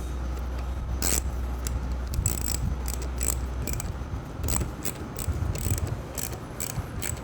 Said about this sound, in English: Using our 4mm Allen.